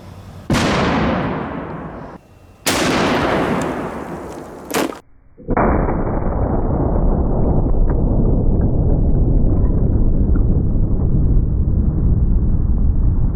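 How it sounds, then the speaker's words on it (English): A gun firing a slop round produces three sharp, loud blasts with decaying echoes, followed by a sustained roaring rumble from the muzzle flash and explosion, with no voices heard. "we had a big enough muzzle flash and explosion to blow over our leg sand"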